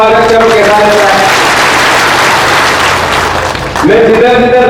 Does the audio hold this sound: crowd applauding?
yes